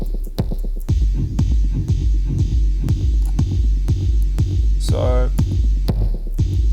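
A sample slowed down in the Max/MSP grooveStretch sampler plays as loud, low throbbing pulses that repeat steadily over a constant droning hum, with a brief smeared tonal sweep partway through.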